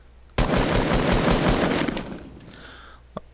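Sustained automatic rifle fire in Fortnite with the trigger held down, a dense rapid burst of shots lasting about two seconds, loud and close, fading into a brief tail with one faint click at the end.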